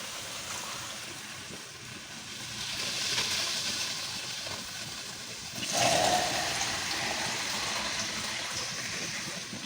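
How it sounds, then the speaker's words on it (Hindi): Water poured into a cooking pot while making beef mandi: a steady rushing gush that swells around the middle and then settles into a continuous pour, fairly faint and close by. "पानी डाल देते हैं।"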